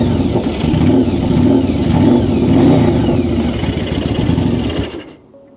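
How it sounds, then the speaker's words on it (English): An old VW MK2 VR6 engine, cold and freshly revived after about a decade off, runs loud and close in a steady rumbling drone with revving surges, then cuts off near the end. "I got the bike running."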